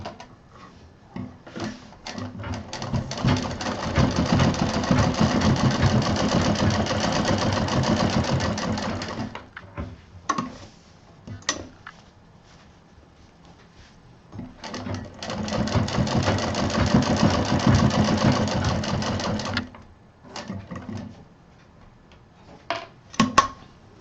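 Sewing machine stitching a double-pocket mobile pouch, running in two long steady bursts of rapid stitching separated by short pauses with small clicks and handling noises, close and clear.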